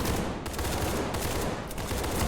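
Gunfire rattles in an SCP video game, dense continuous bursts of shots filling the scene with no pauses between them.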